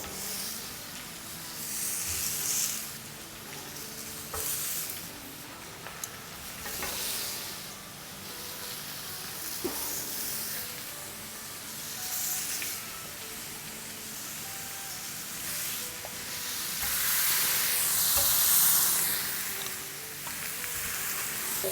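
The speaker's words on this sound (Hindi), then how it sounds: "इसे अब हम ग्रिडल पर रखेंगे जो कटी हुई साइड है वो डाउन" Cut vegetables laid face down on a hot griddle sizzle with a continuous, loud, hissing fry. The sound swells and eases in waves for the whole stretch, close by.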